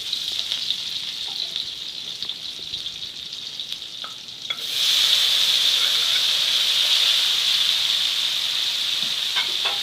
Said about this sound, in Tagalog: pagka ako ay nagluluto ng kamatis, ay ginigisa ko ng ayos